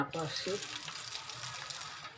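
Sliced potato chips slipped into hot oil for frying, a brief splashy onset giving way to a steady, close, bright sizzling hiss.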